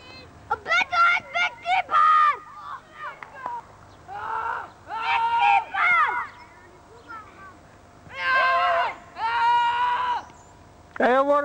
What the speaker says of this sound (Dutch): Hey, waarom schreeuwen jullie zo?